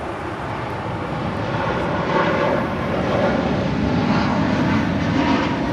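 Austrian Airlines Boeing 777-200ER jet at LAX, a steady, loud broadband engine roar that holds evenly throughout with no break or voices.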